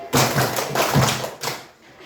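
A class of pupils claps in a counting game, a few sharp unison bursts of clapping in quick succession, close and loud, with faint voices between.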